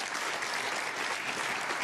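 A snooker crowd applauds at the Northern Ireland Open, a dense, steady burst of clapping filling the hall with no gaps.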